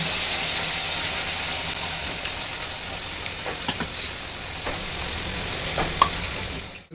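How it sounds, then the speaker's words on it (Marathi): Ground masala paste with curry leaves sizzling in hot oil for a home-style egg curry, a steady bright hiss with occasional pops and spatters, loud and close, no voices. "मसाला जो वाटून घेतलेला आपण तो तेलात फ्राय होतोय"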